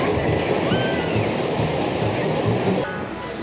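Steady, loud rushing and splashing water at the Water Fun Factory soaker attraction in an amusement park, a continuous close wash of spray with faint squeaks and background bustle.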